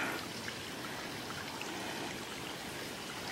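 A mountain stream runs beside a trail through mossy ground, its steady close rushing and trickling continuing evenly without talk.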